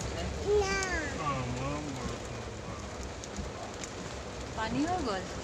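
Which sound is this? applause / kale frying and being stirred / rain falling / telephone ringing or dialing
rain falling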